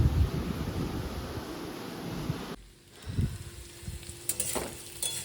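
Spiny gourd frying in a pan with a broad, loud sizzle that suddenly drops to a softer hiss, followed by a few clattering stirs.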